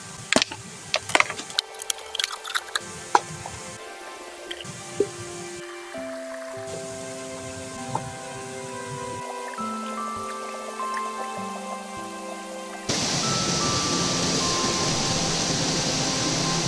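Water runs down a pipe into a tub at a homemade outdoor hot spring, with scattered drips and trickles first and then a steady, close rushing pour.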